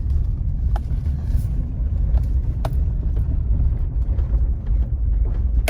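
Inside a car driving along a rural county road in the Ozark hills, a steady, low road rumble and engine hum carries on throughout, with a few small knocks and rattles.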